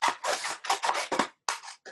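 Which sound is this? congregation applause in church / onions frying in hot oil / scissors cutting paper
scissors cutting paper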